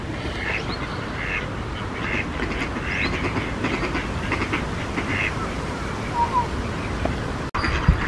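Ducks quack in short bursts against a dense, noisy outdoor background in Queens Park, with rustling and rumble throughout and a sharp knock near the end.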